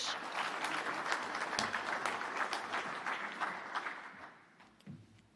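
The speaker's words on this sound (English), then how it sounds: "Let's have a round of applause" A dense round of applause from the crowd at the Fieldays Innovation Awards evening greets the New Zealand National Fieldays Society CEO coming to the stage. It is sustained and even, then thins and fades toward the end.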